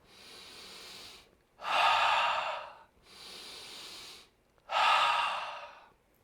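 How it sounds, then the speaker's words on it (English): Fast rhythmic breathing exercise, in through the nose and out through the mouth: four close breaths alternating a softer inhale with a louder, airier exhale, no talking. "So we're breathing a little faster in through the nose, out through the mouth."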